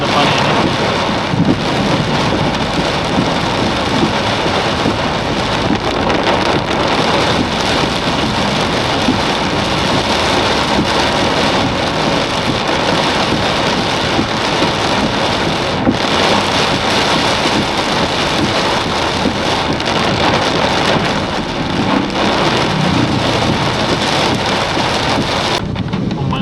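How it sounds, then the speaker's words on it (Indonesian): Rain falls during a bicycle ride through Ciamis, Indonesia. A loud, dense hiss of rain and wind noise runs unbroken from start to end. "hujannya udah mulai sedikit agak reda ya, kalau masih ada rintik-rintik juga, cuman nggak se-ekstrim hujan yang tadi tuh"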